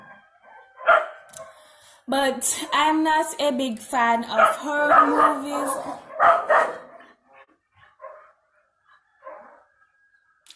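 Dogs bark and yip in short bursts while a person keeps talking over them, the barks close and fairly loud.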